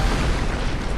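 Boss explosion in the Dark Souls 2 video game. A single dense, loud burst of rumbling noise fills the whole moment with no pause.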